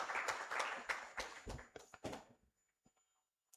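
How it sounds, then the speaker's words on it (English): Audience applause for the Honorable Chief Justice at a formal handover ceremony of the Africa Chief Justices leadership, a brief burst of clapping that fades out after a couple of seconds, leaving a few faint scattered claps. "Let us give another applause to the Honorable Chief Justice."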